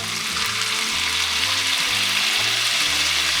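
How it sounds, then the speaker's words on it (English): A marinated ribeye steak sears in a pan just after flipping, giving a loud, constant, close-up sizzle with light music underneath. "That nice little sear"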